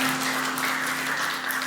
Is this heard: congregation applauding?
yes